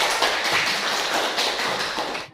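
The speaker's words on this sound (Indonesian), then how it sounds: "Kasih tepuk tangan dulu teman-teman." A class of students in a classroom claps briefly for a classmate's answer, a dense burst of many hands lasting a couple of seconds and then cutting off.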